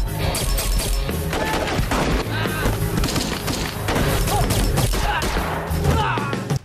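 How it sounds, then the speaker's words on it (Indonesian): Rapid, overlapping bursts of gunfire as two armed forces trade shots, loud and continuous under a busy soundtrack, with thuds and impacts scattered throughout. "terjadilah aksi baku tembak antar dua pasukan"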